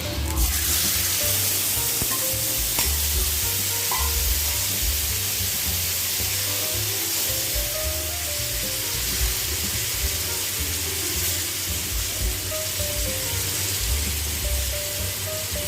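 Brinjal kulambu with tamarind water, turmeric and stuffed whole eggplants simmering in a pan gives a steady, close bubbling sizzle and hiss that runs unbroken throughout, with no talk.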